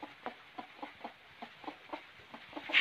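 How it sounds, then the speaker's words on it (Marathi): A single hen clucks softly and repeatedly in a steady rhythm of short, quiet clucks, close by with no talking. "ही बघा इकुलती एक कोंबडी आमची एकच आहे"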